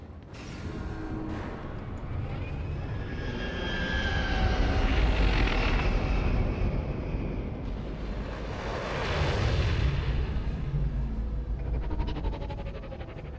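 A spaceship transport departs in Star Wars: The Old Republic, giving a loud, sustained engine roar that swells twice, with a rushing whoosh building and fading over several seconds, heard alone without talk.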